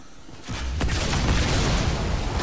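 An explosion goes off in Halo 2 Anniversary: a sudden loud boom that swells into a sustained, rumbling blast of debris-like noise for a couple of seconds.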